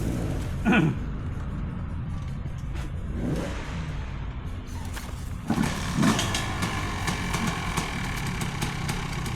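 Motorcycle engine straining and revving on a steep hill climb, a continuous loud mid-pitched drone that swells in bursts and holds under the throttle, with brief distant voices.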